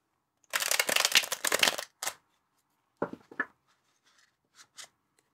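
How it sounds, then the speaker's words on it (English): A deck of oracle cards is shuffled close up on a desk: a long crisp riffle, then a few short card slaps and light taps, faint and alone. "And then I gotta shuffle your deck here."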